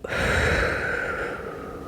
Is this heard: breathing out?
yes